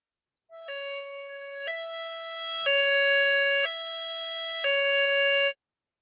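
An evacuation warning siren sounds in a loud, clean electronic tone that alternates between two pitches, distinct from police, ambulance or fire sirens, holding each step about a second before cutting off abruptly.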